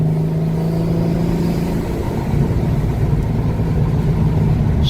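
Turbocharged car accelerating hard with a steady, loud engine drone that swells as the boost comes on around 4,000 rpm, heard from inside the car with no talking.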